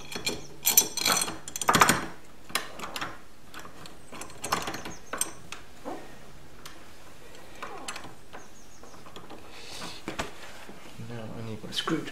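Screwdriver work on a UPVC composite door handle, with scattered clicking and ratcheting ticks from the mechanism, a few louder clatters early on, and a person talking intermittently over it.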